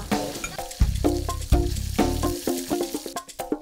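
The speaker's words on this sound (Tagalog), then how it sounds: "Magpiprito muna kami ng isda." Fish crackling and sizzling in hot oil, with irregular popping, spattering bursts and occasional clinks close by.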